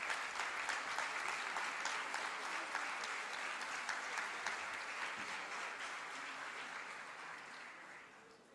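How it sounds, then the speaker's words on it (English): Sustained applause from a crowd at an expo closing ceremony, steady clapping throughout that gradually fades toward the end. "A big round of applause"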